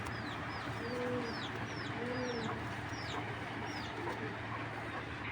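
A pigeon coos softly in repeated low phrases, while other birds chirp faintly in the background.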